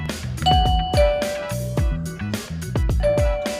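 A wireless doorbell chime plays a bright, bell-like melody of quick ringing notes, loud and close, with no voices.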